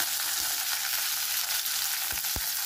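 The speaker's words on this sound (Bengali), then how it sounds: "ঢেঁড়সগুলোকে ভেজে নেব হালকা করে" Okra fries lightly in white cooking oil, giving a constant bright sizzle with a few soft knocks of stirring near the end.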